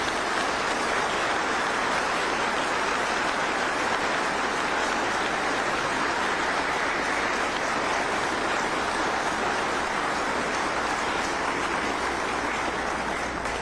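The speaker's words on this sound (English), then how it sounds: "please give this family the round of applause that they deserve to show your support" Mourners give sustained, steady applause at the funeral of a fallen Alamogordo police officer, a dense, even wash of clapping from a large crowd with no voices heard.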